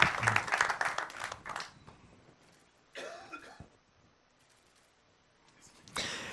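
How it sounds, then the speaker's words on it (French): Short burst of audience applause at a digital awards ceremony, clapping that dies out within two seconds, followed by scattered small sounds, a cough-like noise and another brief swell at the end. "On peut applaudir Benito Diz et Thomas Blard"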